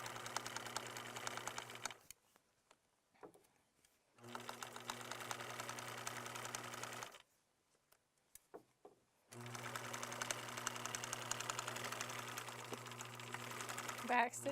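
A sewing machine stitches a band onto a pillowcase in three steady bursts of fast, even whirring separated by short pauses with faint handling noises in between.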